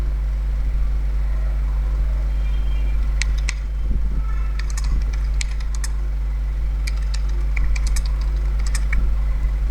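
Someone types on a computer keyboard, entering an image name: scattered light key clicks in short bursts with pauses, over a steady low hum and no speech.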